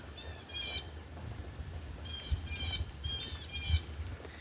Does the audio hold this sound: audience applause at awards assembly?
no